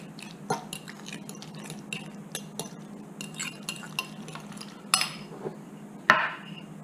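A spoon stirs lemon juice and zest in a bowl, making a string of light taps and scrapes with a few sharper clinks against the bowl over a quiet steady hum.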